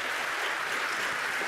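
An audience applauds Magnus Carlsen after a blindfold chess exhibition against three players on the clock, a dense, steady wash of clapping that stays loud and even throughout, with no voices over it.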